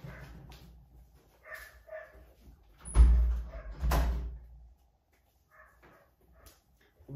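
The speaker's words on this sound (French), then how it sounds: "Mais non, ce chien." A neighbour's dog barks from next door, heard through a closed window indoors: a few muffled, scattered barks, then two louder, sharper barks close together, before it goes quiet.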